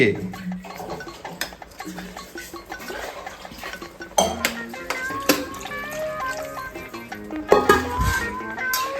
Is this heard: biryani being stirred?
yes